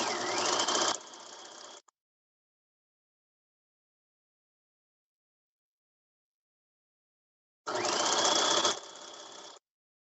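A sewing machine stitches in two short bursts separated by long silence, each a close, rapid mechanical chatter that slows slightly before stopping.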